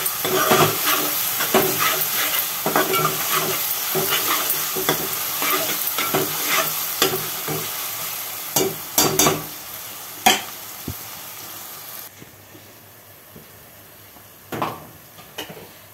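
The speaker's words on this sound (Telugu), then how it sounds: "పొడి అల్లం మంచిగా వేగాలి" Dry ginger fries in a pan for a chicken curry, a steady hissing sizzle broken by frequent scraping stirs of a spatula, close and loud, easing to a quieter sizzle near the end with a few last scrapes.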